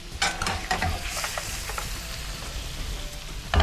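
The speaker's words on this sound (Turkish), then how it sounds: "Hemen kızartmaya alıyoruz bunu" Potatoes sizzle and crackle in hot oil in a frying pan, with a few sharp stirring scrapes near the start and a clatter at the end.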